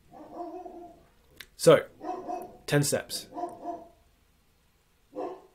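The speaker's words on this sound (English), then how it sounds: "Sorry if you could hear my dog barking downstairs." A dog barking from downstairs, a few short muffled barks spread across the moment while someone talks nearby, the barks fairly distinct but partly under his voice.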